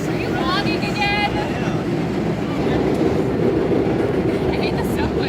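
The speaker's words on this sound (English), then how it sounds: "I hate the subway." Subway train running on rails, a steady loud rumble and rattle filling the whole stretch, with a few brief squeals above it and people talking over the noise.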